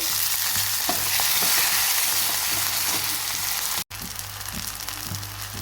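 Garlic ginger paste, curry leaves and tomato sizzle steadily in a pan for a cauliflower vegetable dish, with scattered stirring scrapes and a brief dropout near the end before the frying resumes.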